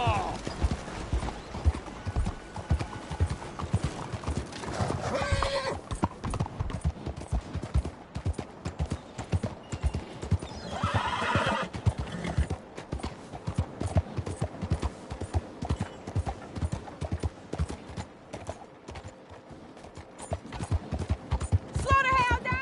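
A horse gallops in Red Dead Redemption 2, its hooves drumming a fast, steady clip-clop with an occasional whinny. Character voices talk over the hoofbeats.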